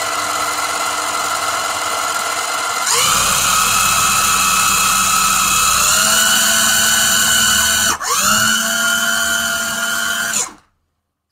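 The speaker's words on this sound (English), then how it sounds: "that's what you hear when you calibrate the car" An AWS DeepRacer model car's wheels spin up during calibration with a loud, steady, drill-like electric motor whine. It holds level, dips and recovers briefly, then cuts off abruptly into silence.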